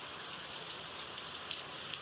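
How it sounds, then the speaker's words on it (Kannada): Heavy rain falls outside as a steady, faint hiss of drops with no break, with no voices over it. "ಮಳೆ ಬರ್ತಿದೆ ಗೈಸ್, ಫುಲ್ ಜೋರ್ ಮಳೆ ಬರ್ತಿದೆ ಹೊರಗಡೆ"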